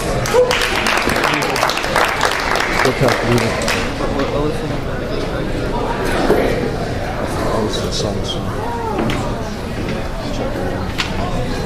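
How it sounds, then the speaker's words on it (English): Audience applause at a university open-mic night, a steady crowd patter of clapping with chatter and voices mixed in, holding at an even level throughout. "Round of applause, please."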